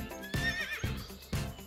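A horse whinnies loudly and close by, a shrill wavering neigh over repeated low snorting beats, with no voices.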